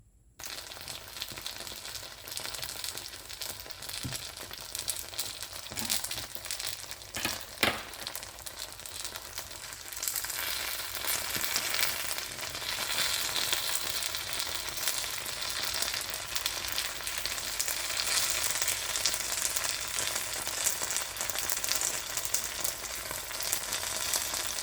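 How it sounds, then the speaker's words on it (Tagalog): Banana spring rolls (turon) deep frying in hot oil, a steady, dense sizzle that starts a little after the beginning and grows louder and fuller over the second half, with a few sharp pops early on and no voices. "ipiprito natin guys"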